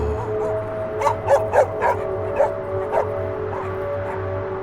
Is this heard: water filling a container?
no